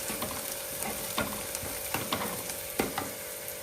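Small onions, ginger and garlic frying in a pan give off a steady close sizzle, broken by sharp clicks and scrapes of stirring throughout.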